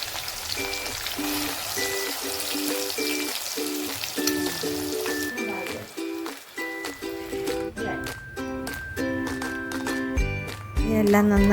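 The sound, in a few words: fish frying in a pan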